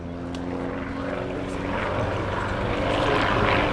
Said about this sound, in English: Jim here is doing a load of basic aerobatic manoeuvres